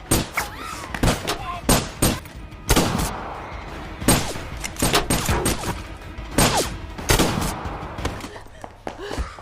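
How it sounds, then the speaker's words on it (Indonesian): Repeated gunshots ring out in a film shootout between men inside an Alfamart store, sharp close bangs in irregular bursts, some in quick succession, over a background of dramatic movie sound. "terjadi adegan baku tembak di"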